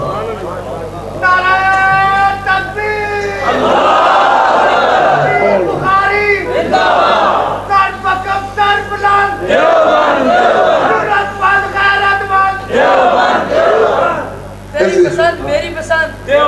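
Large crowd at a religious gathering chanting slogans in loud, rhythmic bursts that rise and fall in waves, with a prominent leader's voice calling out between responses.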